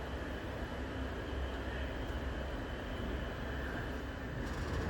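The Mumbai–Kolhapur Koyna Express rumbles as it departs, a continuous low rolling drone of the train in motion, steady and moderately loud with no talk.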